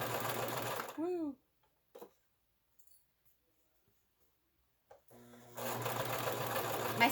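A sewing machine stitches a soft fabric junk journal cover, running in close, loud rapid bursts at the start and end with a near-silent pause between.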